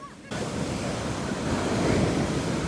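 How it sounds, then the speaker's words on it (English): Big ocean waves break and surge in a loud, roaring wash after a quiet opening, swelling toward the middle, with wind buffeting the microphone. "Big waves."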